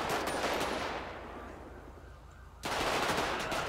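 Loud automatic gunfire in a video game, aimed at car drivers: a rapid burst, a quieter lull of about a second and a half, then another sharp volley resuming abruptly.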